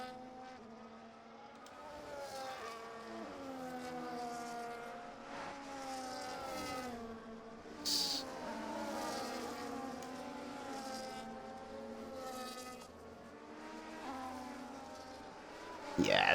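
Race cars in a Monaco Grand Prix racing video game whine through the hairpin, several engines rising and falling in pitch as they brake and accelerate one after another, with a short bump near the end.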